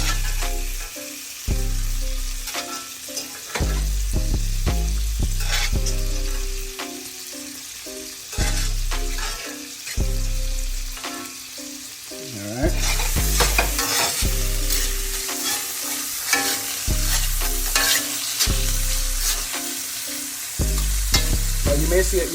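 Shrimp stir-frying for house fried rice, a continuous loud sizzle broken by repeated scraping and tossing strokes of a spatula against the wok, getting brighter and busier toward the end.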